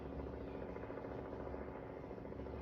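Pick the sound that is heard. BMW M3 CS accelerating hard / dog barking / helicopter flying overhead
helicopter flying overhead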